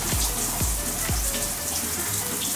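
Shower water runs in a steady spray, with a few soft thumps as it splashes and hits a surface early on.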